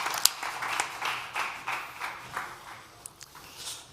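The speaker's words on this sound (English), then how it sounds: "Big applause for Deanne." Light, uneven audience clapping for a panel speaker on the Playground Stage at South Summit 2021, with sharp separate claps over a soft wash that ebbs and swells.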